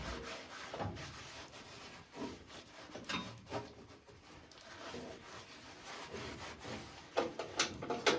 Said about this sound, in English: I do like to add a little bit of WD-40 just to clean it up